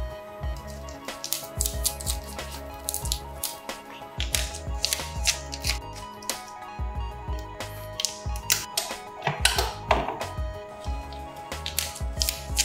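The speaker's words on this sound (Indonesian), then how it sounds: "ini saya kemas satu persatu dengan menggunakan plastik yang super cute" Peanut candies are wrapped one by one in cute plastic wrappers, giving a dense run of close crinkling and rustling with sharp crackles and soft taps. No one speaks.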